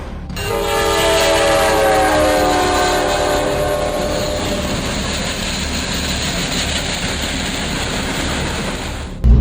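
A Japanese train passes close by, rising into a loud, sustained rumble and rush with strong tonal whine, a horn-like tone sweeping across it, holding steady for several seconds before a sharp burst at the end; no voices.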